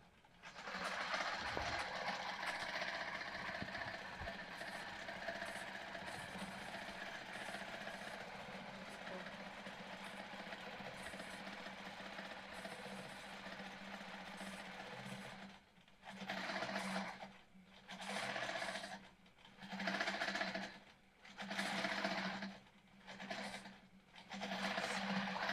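A longarm quilting machine run by a Pro Stitcher computer hums steadily as it stitches a row on denim, then runs in several short bursts separated by pauses, with a voice talking faintly at times.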